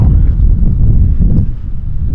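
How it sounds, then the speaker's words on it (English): Strong wind buffeting a microphone, a steady low roar that continues throughout with no voices. "it's super windy."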